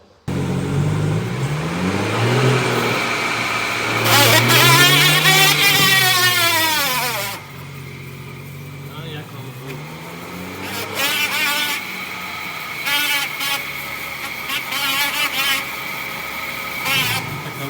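A vehicle's rear differential hums at speeds of 80 km/h and above, a steady droning road noise with rising and falling tonal sweeps as the car accelerates and eases off, loud and continuous throughout.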